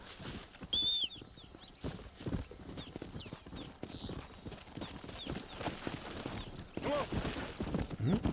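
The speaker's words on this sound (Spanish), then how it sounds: "Aquí hay unos caballos también." Horses' hooves clip-clop steadily in the video game Red Dead Redemption, a moderately close, continuous trotting patter with a brief whinny and birdsong around it, while someone talks over it.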